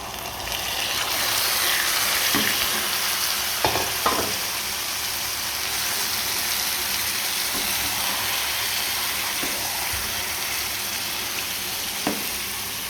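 Marinated chicken hits hot fried onions in a pan for a chicken biriyani, setting off a steady, loud broadband sizzle that runs throughout, with a few scattered clinks and stirring knocks on top.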